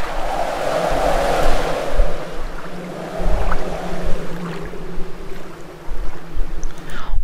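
Wind buffets and roars across the microphone in uneven gusts, loud at first and then easing, with no voices.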